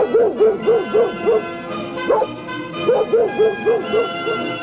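Tippy the Wonder Dog barks in a rapid series of short, bright woofs, grouped in bursts with brief pauses between, close and fairly loud.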